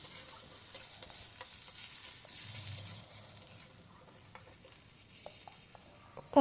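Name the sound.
ginger garlic paste frying with okra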